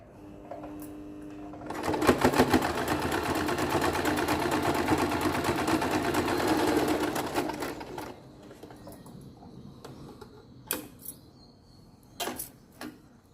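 A sewing machine runs a zigzag stitch along the edge of a fabric envelope pillow cover, a fast close rattling whir lasting about six seconds, then a few sharp clicks and clunks as it stops.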